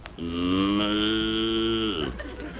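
A person imitates a cow with one long, steady, nasal moo lasting about two seconds, close and loud, in an old comedy radio routine.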